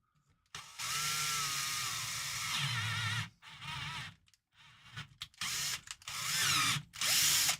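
A power drill driver with a worn chuck spinning, loud whirring bursts that rev up and cut off repeatedly, with short silent gaps between runs.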